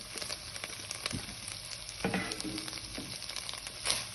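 Capsicum and cabbage frying in a pan, a steady soft sizzle with occasional stirring scrapes and light knocks, close and fairly quiet, without talking.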